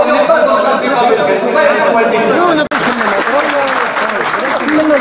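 An audience in Argenteuil breaks into sustained applause that holds steady throughout, with voices talking loudly over the clapping and a brief break just before the midpoint.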